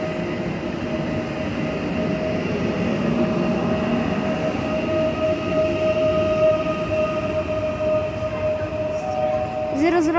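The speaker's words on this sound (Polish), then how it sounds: "Opóźniony pociąg Intercity Już go widzę." Delayed Intercity passenger train, IC Pilecki Białystok–Racibórz, rolling through a station in Poland with a steady rumbling roar and faint metallic screeching of wagons, continuous and fairly close, ending in a brief squeal.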